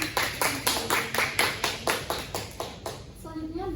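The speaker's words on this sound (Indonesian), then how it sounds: "Beri aplaus." Rhythmic group clapping fills an Indonesian classroom, with steady claps in unison for about three seconds before fading under a voice.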